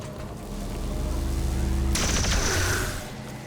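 A single loud gunshot from a pistol in XCOM 2 cracks out about halfway through, following a steady low hum and a rising rumble.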